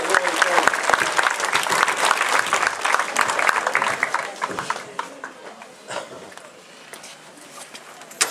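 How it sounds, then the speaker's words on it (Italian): Crowd applause at the blessing of a restored Madonna della Neve statue in Buonvicino, lively dense clapping that gradually thins and fades toward the end, with some scattered voices. "Un applauso"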